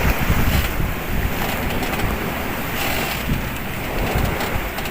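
A sailboat at sea, passing between Boulogne and the Isles of Scilly, pushes through waves in wind of up to 25 knots; a constant roar of wind and rushing water fills the air, with repeated duller thumps as the hull meets the swell.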